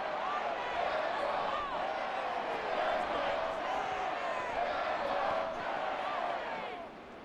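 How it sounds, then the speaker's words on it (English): Home crowd in a Madden 24 simulated NFL game between the Lions and Buccaneers applauding and cheering, a steady, dense wall of crowd noise throughout, with faint talk mixed in. "And the home crowd applauding."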